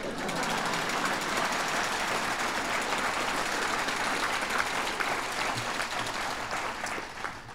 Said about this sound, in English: Now would be a good time to clap